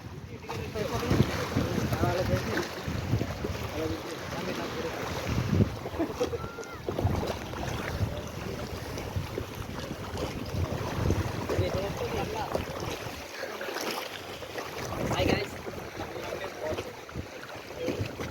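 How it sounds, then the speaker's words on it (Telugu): Steady rushing of a boat moving over open sea off the beach at Visakhapatnam (Vizag), India, with wind buffeting the microphone and faint voices underneath. "బోట్ అయితే ఎక్కేసాము, బోటింగ్ అయితే చేస్తాము"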